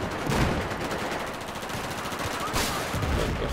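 Sustained gunfire in the Battlefield 4 video game on PC, dense overlapping shots and automatic bursts rattling continuously at steady loudness, with louder bursts near the start and end.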